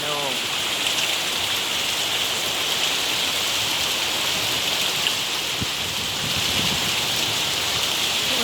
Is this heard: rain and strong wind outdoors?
yes